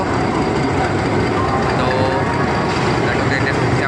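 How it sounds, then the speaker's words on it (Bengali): An express train pulls into a station close by with a steady low roar and some squealing tones, while people talk in the background. "দেখো ট্রেনটা ঢুকছে কি ডিগডিক ডিগডিক করে"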